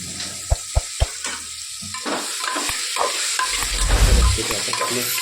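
Peas, potato and brinjal frying in a spiced tempering while being stirred, three sharp utensil taps at the start and then a continuous close sizzle with scraping, heard alone.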